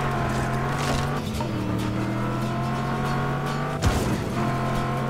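Buggy car driven in the video game Just Cause 3, its engine droning steadily with shifting pitch and a sharp skid-like burst near the end, loud and close without talk.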